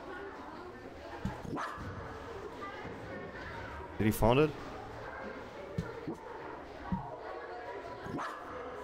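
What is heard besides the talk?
dog barking in the video game Ian's Eyes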